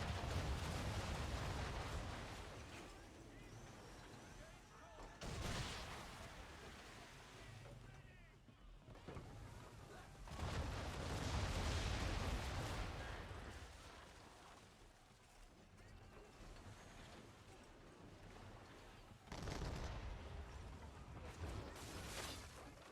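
Round shot cannon fire in Assassin's Creed 3 Remastered comes as several heavy booming blasts spaced through a dense roar of sea and battle noise, loud and broad.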